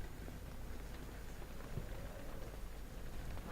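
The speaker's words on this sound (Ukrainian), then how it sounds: "На дворі йде дощ, я хочу залізти." Soft, steady patter of rain in the video game Amnesia: The Dark Descent, fairly faint and even, with no voices over it.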